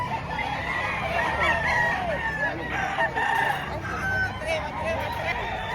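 Chickens cluck continuously while a rooster crows nearby, the calls overlapping in a busy farmyard chorus.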